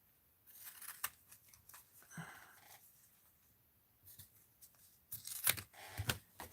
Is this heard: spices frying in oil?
no